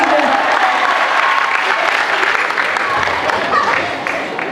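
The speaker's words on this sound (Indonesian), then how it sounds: "Boleh tepuk tangan untuk kita." Steady, dense audience applause fills a hall during an Isra and Miraj religious gathering, loud and continuous from many hands with crowd murmur underneath, easing slightly toward the end.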